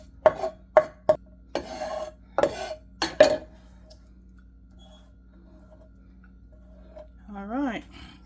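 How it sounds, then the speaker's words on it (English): A knife chopping green onions on a cutting board in a home kitchen, a handful of crisp, separate thuds and cuts with a few rubbing scrapes between them, then silence before a voice speaks. "so we're done chopping the green onions"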